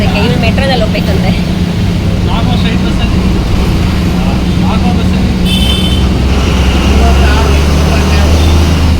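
Continuous engine rumble and road noise fill the cabin of a moving bus, loud and steady throughout, with faint voices in the background.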